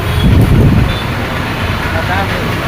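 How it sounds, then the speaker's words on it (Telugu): Vehicles passing on a national highway, a loud continuous roadway roar with a swell of engine rumble near the start, with voices faintly present underneath. "వాహనదారులు వాహనాలు వస్తూ పోతున్నాయి"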